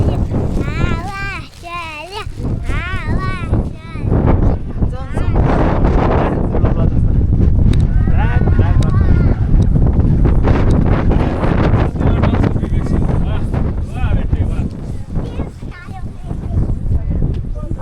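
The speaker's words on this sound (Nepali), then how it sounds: "हावा चल्यो" Strong wind gusts over the Beni–Muktinath mountain highway near Marpha in Mustang. Loud, continuous buffeting wind roars against the microphone while several people talk over it.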